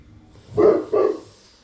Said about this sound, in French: Il y a le chien qui n'est pas content.